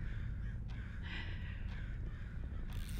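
Bird cawing in the Summer of '58 video game, a faint, distant caw repeated over a low droning ambient background.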